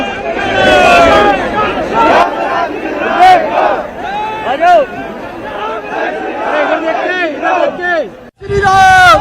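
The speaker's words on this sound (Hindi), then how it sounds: "जय श्री राम, जय श्री राम, जय श्री राम, जय मोदी मोदी मोदी।" A large political crowd at a rally chants Jai Shri Ram and Modi slogans in loud, rhythmic, repeated unison shouts, with many voices overlapping close by.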